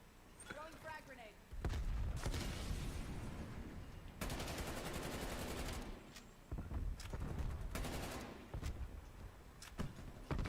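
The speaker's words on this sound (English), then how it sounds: "Throwing frag grenade." Video game gunfire and a frag grenade blast: loud bursts of shots and explosive booms in rapid, uneven clusters, with someone talking over the action.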